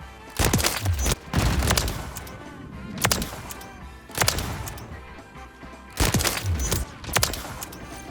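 Sniper pistol shots in a video game, an aftermarket TYR sniper pistol, fire as several loud, sharp reports spaced roughly a second or more apart, each with a booming tail, with no talk over them.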